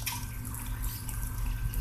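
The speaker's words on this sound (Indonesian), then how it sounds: "Dan juga aliran air ini dari pompa yang ini ya, pompanya di bawah" Water from a pond pump pours steadily into the filter chamber of a koi pond, a continuous close splashing and trickling with no voices.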